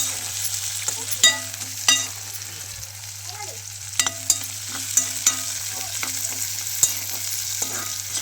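Peas sizzle in a pan over a low steady hiss, with repeated sharp stirring scrapes and clinks from a spoon at an uneven pace, close and clear, with no talk.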